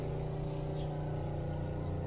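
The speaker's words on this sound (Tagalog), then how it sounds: "Daghan kay nangagirong motor" Several motorcycle engines rumble and rev outside a house on a busy Saturday, a steady low droning hum that stays distant and fairly faint with no talking.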